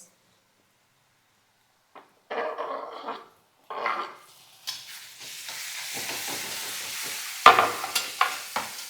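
Tomatoes frying in a pan give a steady sizzle that builds and continues, while a spoon stirs with scraping strokes and a few sharp knocks against the pan, close by.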